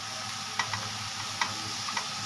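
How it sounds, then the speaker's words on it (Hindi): Boiled beans being stirred into a frying pan on a home stove, with a faint steady sizzle and a few light clicks of the spoon against the pan; no one speaks. "तो अभी मैंने इसमें ये फली डाल दी है, उनको मैं अच्छे से मिला देती हूँ।"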